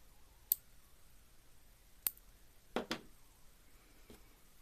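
Small scissors snip away excess beading thread in four quick, quiet cuts spaced over a few seconds, with two snips close together near the end and no talking.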